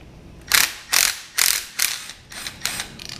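A hand ratchet clicks in six quick bursts while loosening 12 mm bolts on a Toyota 4AGE engine during a rebuild, each burst a loud close metallic rattle separated by short pauses.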